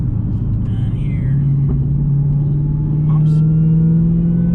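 A supercharged Ford Mustang and a Dodge Challenger Hellcat Redeye warm up in sport mode: a steady low engine drone that swells slightly partway through, heard close from inside the car with faint talk at times.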